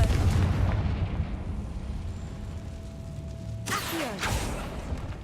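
A Confringo blasting spell goes off in a Harry Potter video game, a sharp burst with crackling debris and a rumbling tail over a low, steady game ambience.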